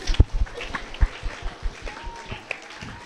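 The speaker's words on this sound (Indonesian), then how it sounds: "Mari kita beri tepuk tangan yang meriah untuk kita semua." A school audience at a Ramadan event at a junior high claps, uneven and lively, with heavy thumping bursts and scattered hand claps, somewhat close and a bit messy.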